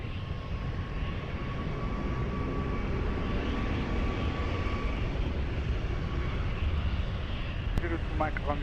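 An airplane taking off from runway 20 at Lisbon Airport gives a steady, moderately distant engine roar that holds throughout, with brief radio-like voice fragments near the end.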